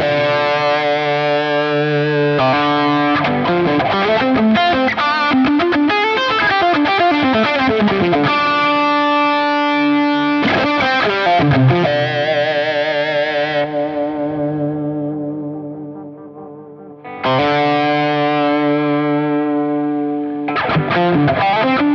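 Electric guitar lead tone shaped by Line 6 Helix effects, a loud, saturated and singing solo line with echoing sustain, flowing phrases and held notes, alone with no voices.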